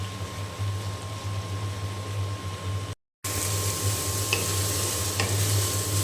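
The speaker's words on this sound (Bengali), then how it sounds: "এখন আমি ভালো করে নাড়াচাড়া দিয়ে দেব।" Chopped leafy greens, salted, stir-fry in a pan with a loud, steady sizzling hiss and the rub of stirring. The sound breaks off briefly in the middle, then carries on. No one speaks.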